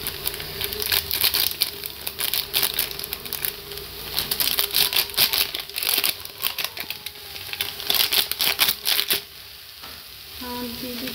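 Meat masala spice packet handled over a cabbage curry pan, with rapid, irregular close crinkles and crackles in bursts that thin out near the end, leaving a faint background.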